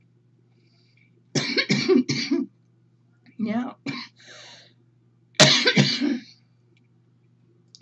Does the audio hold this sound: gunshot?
no